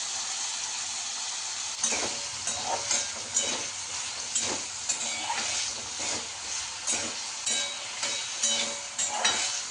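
Finely chopped potatoes frying in hot oil in a non-stick pan, a steady close sizzle with repeated scraping and stirring strokes across the pan, no talking.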